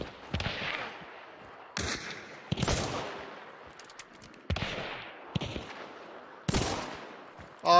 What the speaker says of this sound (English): Those two zombies are shooting at me.